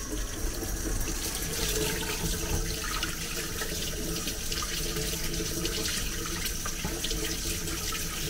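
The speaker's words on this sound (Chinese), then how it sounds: "然后把水开上" A faucet pours steadily into a sink, a close, continuous splashing hiss that holds an even level from start to end with no talking.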